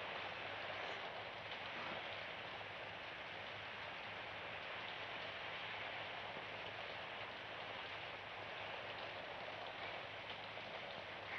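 Heavy rain pours down steadily in a 1960s Chinese film scene, a dense, even hiss without pause that fills the whole stretch, fairly quiet and free of voices.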